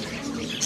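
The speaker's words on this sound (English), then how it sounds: "You can listen the sound of the bird." Mixed birds calling at the Souq Waqif bird market, where many parrots and other caged birds are kept, with brief chirps and coos over a steady crowded background and a sharper high call near the end.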